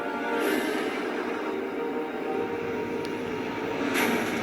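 A rescue helicopter hovers at night over a steep cliff, its engine producing a loud, constant droning roar with steady tonal hum throughout and no speech.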